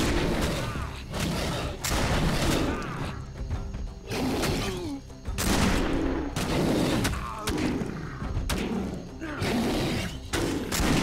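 Gunfire in the Risen 3: Titan Lords video game, several loud bursts of shots and impacts repeating over about eleven seconds, mixed with game effects and faint voices.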